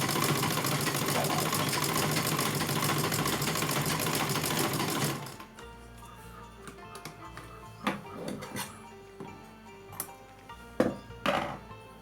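Sewing machine stitching a Laddu Gopal deity dress, a steady rapid whirring run for about five seconds that stops abruptly, followed by quieter scattered clicks and handling noises of the fabric.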